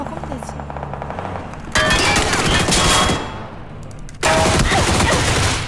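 Two loud bursts of rapid automatic gunfire in a shooter video game, each lasting over a second, separated by a short quieter gap with faint background game noise.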